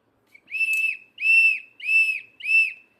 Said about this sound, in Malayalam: പിന്നെ ഇതൊരു വിസിൽ.